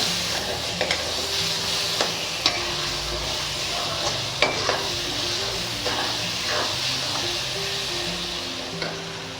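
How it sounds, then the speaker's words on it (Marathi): Masala with kasuri methi is stir-fried in oil for pav bhaji, producing a steady, close sizzle punctuated by sharp spatula scrapes and taps. "आता याच्यामध्ये थोडीशी कसुरी मेथी घालू आणि परत एकदा चांगलं परतून घेऊया"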